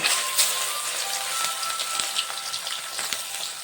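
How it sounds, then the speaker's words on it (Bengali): Prawns crackle and sizzle in hot oil in a wok, a continuous bright spitting hiss dotted with sharp pops, with no talking. "তেল গরম হয়ে গেছে এখন মাছগুলো দিয়ে দেব"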